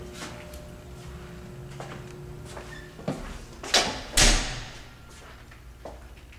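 An indoor door is worked open and shut, a few soft scrapes and knocks building to two sharp, close thuds as it slams near the end.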